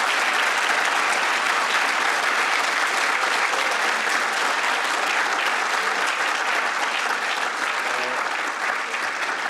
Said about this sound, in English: give your guest speaker, Willie Lanier, a loud round of applause